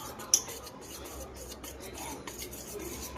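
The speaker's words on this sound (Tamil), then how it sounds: "நல்லா மிக்ஸ் பண்ணி எடுத்துக்கலாம்" Beetroot cake batter with oil and salt being stirred by hand in a bowl, giving a soft, continuous scraping and rubbing sound with a brief sharp clink near the start, fairly quiet and close.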